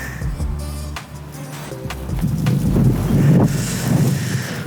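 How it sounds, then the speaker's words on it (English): Gusty wind roars and buffets the microphone, swelling louder toward the middle, with some faint rumbling underneath. "it is so windy"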